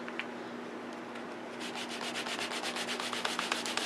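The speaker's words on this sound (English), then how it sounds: "Scrub it on one side. Wipe dry it on the other." A rubber stamp scrubbed clean on a chamois pad sprayed with Stampin' Mist: a close, steady scratchy rubbing that builds into fast rhythmic back-and-forth strokes, alone over a faint hum.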